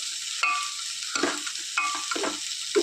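Cooked jackfruit seeds and drumstick leaf curry being mashed and stirred in a pan, giving soft repeated scraping and squishing strokes in short bursts over a steady background hiss, close and moderately loud, with no talking.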